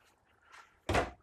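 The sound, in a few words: drawer under RV pantry shelves being opened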